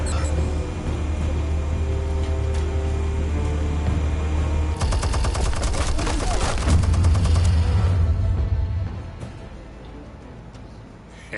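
A rapid, sustained roar of minigun fire in the Batman: The Telltale Series game, loud and dense over a low engine-like drone, rising in a thick burst midway before tapering off near the end.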